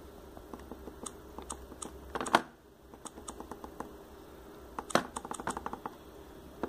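A computer keyboard connected to a phone through a USB OTG cable is typed on in soft, uneven runs of clicks with a few heavier taps, fairly quiet and close, without speech.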